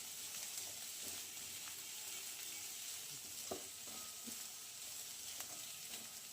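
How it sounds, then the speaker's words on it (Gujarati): Onions sautéing in a pan over a low gas flame, a steady soft sizzle with faint occasional clicks of stirring, continuous and close, no voices. "કાંદા આ રીતે આપણે મિક્સ કરી લેવાનું અને આપણે ધીમા ગેસે સતળાવા દેવાનું"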